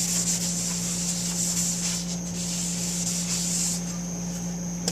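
Abrasive grit is rubbed steadily over a flat lapping plate, giving a continuous close gritty scrubbing with a constant low hum underneath and no talk.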